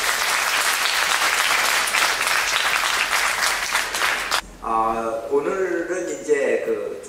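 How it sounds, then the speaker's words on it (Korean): Church congregation applauding in dense, steady applause for several seconds, which cuts off abruptly and gives way to someone speaking amid the room's ambience. "우리 감사와 영광의 박수 보내드립니다."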